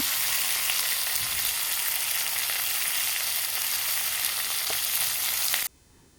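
Onion and tomato frying together in oil make a steady, loud, close sizzle that holds evenly for several seconds, then cuts off abruptly near the end.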